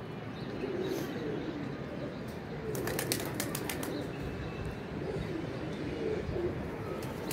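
Soft pigeon coos repeat over a steady bed of outdoor noise, with a brief burst of fluttering wings near the middle.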